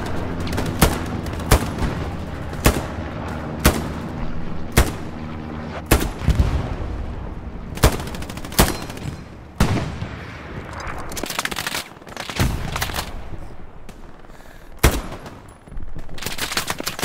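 Machine gun fire in the World War II shooter Hell Let Loose: loud, sharp bursts and single cracks at irregular intervals, some close and punchy, others echoing farther off across a battlefield.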